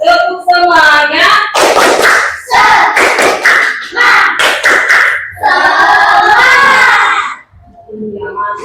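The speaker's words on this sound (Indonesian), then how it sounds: "Tepuk semuanya." A school class claps a rhythmic spirit clap together, with rapid bursts of hand claps mixed with chanting voices, loud and close, ending in a brief pause before more talk.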